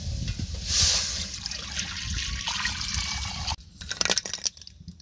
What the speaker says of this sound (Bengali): এই জন্য কড়াইতে পানি দিয়ে নিচ্ছি।